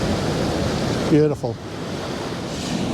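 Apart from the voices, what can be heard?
white water flowing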